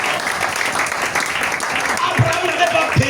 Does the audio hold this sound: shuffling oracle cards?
no